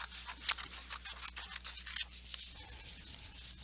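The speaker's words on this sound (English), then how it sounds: "I'm going to go ahead and take my scissors and cut them" Scissors snip through paper in a quick series of close, crisp cuts, fairly quiet with no talking.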